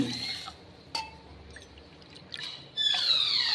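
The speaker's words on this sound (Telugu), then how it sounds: "3 కప్పుల వాటర్ పోసుకోవాలండి" Water poured into a cooking pot of washed rice for a sweet rice pudding in a home kitchen, a soft trickling pour with a few light splashes, close and fairly quiet, growing fuller near the end.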